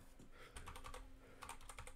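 Soft, fast keystrokes come from a computer keyboard in short bursts with a brief pause between them, faint and close, with no voices over them.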